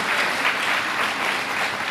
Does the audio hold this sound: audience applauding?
yes